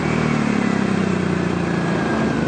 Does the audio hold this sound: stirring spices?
no